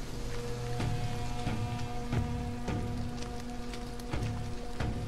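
Steady rain falls in the video game The Axis Unseen, a dense continuous patter with a few louder drop-like taps spaced through it, alone with no voices.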